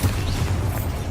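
A Bombarda spell explosion in Hogwarts Legacy, a brief dull boom with a rumbling low-end tail.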